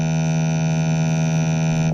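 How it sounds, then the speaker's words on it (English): A sine wave plus a sawtooth waveform, fed to the two stereo channels to draw a shape on an oscilloscope, makes a steady, buzzy, harmonically rich drone that holds at constant loudness and then cuts off abruptly. "Now we add a sawtooth waveform to the right channel."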